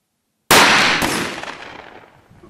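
An ELOS Traqueur 12-gauge hunting shotgun firing outdoors: a single loud, sharp close report after brief silence, a quick second crack a moment later, and a long fading echo.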